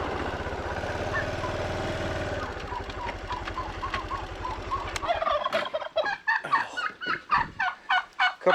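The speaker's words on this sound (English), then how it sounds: "Couple turkeys are out." Turkeys loose on a farm on a rainy day gobble in rapid rattling calls, loud and close, first over a steady engine drone and then alone in choppy bursts.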